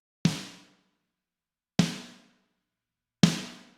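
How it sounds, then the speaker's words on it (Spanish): Triggered snare drum from a poorly recorded kit, its sound replaced by two combined samples: three separate sharp hits with short decaying tails, evenly spaced, in silence between. "trigué este redoblante, reemplacé el sonido por un sample"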